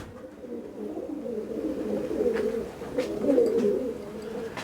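Pigeons coo in soft, throaty, repeated calls in the morning while flying. The coos swell and fade over a low murmur, fairly close, with no talking.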